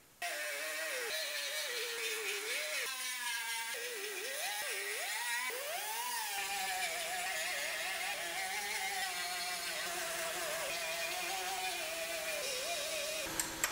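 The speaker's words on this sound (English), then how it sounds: "So, just going to grind our black dots off." A power grinder whirs continuously, close and steady, as it grinds weld spot marks off the steel roof of a 2019 GMC Sierra Denali 2500HD truck, its pitch wavering as the tool loads and frees.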